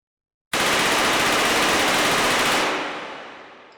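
A Mac-11 in the video game H3VR fired in one continuous full-auto burst of about two seconds, a dense loud roar of rapid shots that tails off into a fading echo, with no voices.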